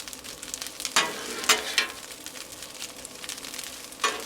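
Chorizo fries on a Blackstone griddle with a steady, close sizzle, broken by a few sharp scrapes and stirs from a spatula.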